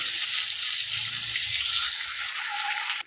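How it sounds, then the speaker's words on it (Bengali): A boiled egg fries in hot oil, a steady close hiss and crackle of sizzling that runs evenly and then cuts off abruptly. "ডিমটা আগেই সেদ্ধ করে নিচ্ছি, এখন একটু ভেজে নেব।"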